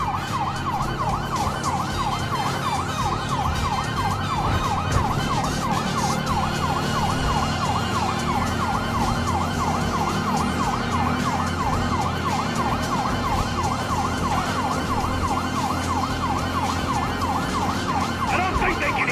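Wailing emergency sirens in the video game GTA 5 cycle rapidly and steadily over engine rumble, loud and continuous throughout.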